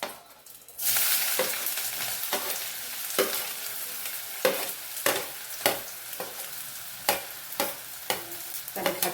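Onions hit hot oil after a quiet moment and break into a loud, continuous sizzle while vegetarian keema kaju fry is cooked. Sharp scraping stirs repeat at a regular pace, close by, with no talking.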